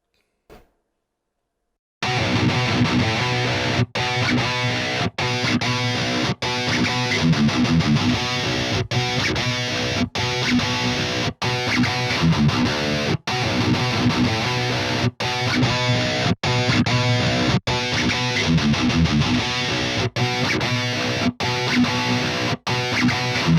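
Distorted electric guitar run through an amp simulator plugin, a looped riff playing continuously and loudly while the cabinet impulse responses are switched, with brief dropouts at each change.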